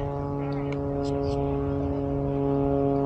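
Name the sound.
propeller plane engine flying overhead into the wind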